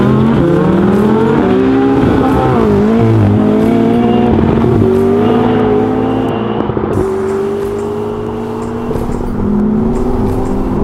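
An Audi R8 V10 Plus and a McLaren 600LT launching side by side down a drag strip, engines roaring loud and close, pitch climbing through several gear changes with brief dips between shifts.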